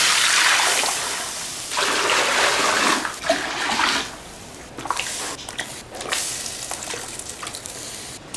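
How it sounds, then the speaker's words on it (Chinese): Water pours loudly into a cooking pot in a rushing stream for a few seconds, then breaks into irregular splashes and sloshing as the flow stops and starts. "锅里再浇水哈。"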